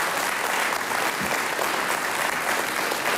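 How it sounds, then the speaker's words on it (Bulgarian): A television studio audience applauding steadily, a dense and loud wash of clapping throughout with no voices. "Това заслужава силни и бурни аплодисменти."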